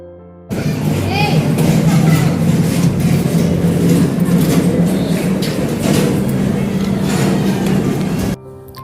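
Train pulling into Mangalore railway station, a loud, steady rumble of the rail carriages with low engine drone and rattling that fills the whole stretch before cutting off near the end.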